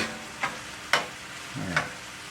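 Catfish and shrimp in a hot pan on high heat, with a low steady sizzle and a few sharp scrapes of stirring, close and clear, no talking.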